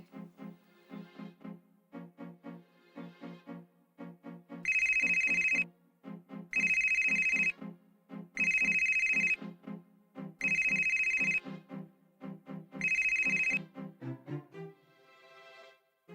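A telephone rings five times in regular bursts, loud and close, over a soft melodic background music tone.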